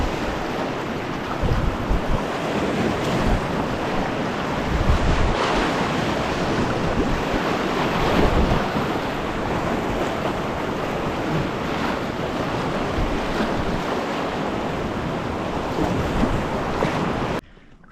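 Roaring whitewater of Badger Creek rapid, a class 5 rapid in the Grand Canyon, churning loudly and steadily from close range as a kayak runs it, with wind buffeting the microphone throughout and no voices.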